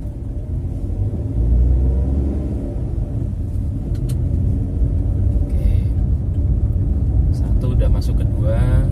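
A car pulls away and drives along an open road, its engine rumble swelling as it gets going and holding steady, with an instructor talking over it during a driving lesson.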